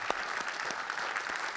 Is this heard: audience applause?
yes